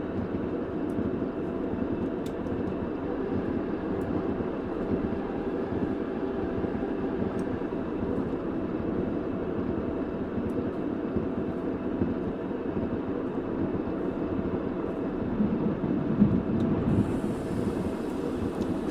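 A diesel railcar in a British countryside train simulator game hums along steadily, with a constant low engine drone and rolling rumble filling the whole stretch and no speech.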